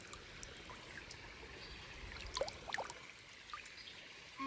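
A small natural spring-water stream trickles steadily outdoors, faint and continuous, with light splashy ripples and no voices.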